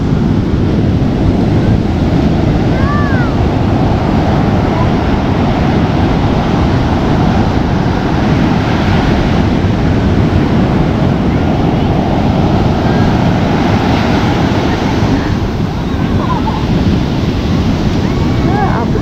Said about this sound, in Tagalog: Lakas lalo ng alon.